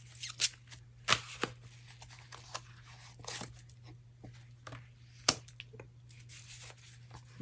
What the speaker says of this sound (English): I'm going to pull 3 cards from this.